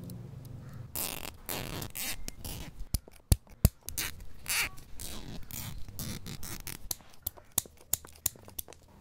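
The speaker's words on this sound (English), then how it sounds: "I'm going to go ahead and zip tie them together." Zip ties ratchet and get tugged tight to fasten cut foam pieces into a cylinder, heard as close zipping rasps and scratchy handling followed by a string of sharp clicks and snaps near the end.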